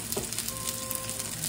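Shrimp sizzling in a hot pan for buttery lemon shrimp pasta: a steady, close crackling hiss throughout, with a brief stir or clink near the start and no speech.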